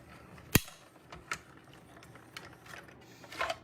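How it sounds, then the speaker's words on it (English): A plate cranked through a mini cut and emboss machine during card making, with a sharp click followed by scattered faint ratcheting and mechanical clicks, quiet and close. "we are done with the mini and cut emboss machine for this card here"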